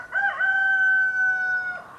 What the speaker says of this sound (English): Hank is very vocal this morning.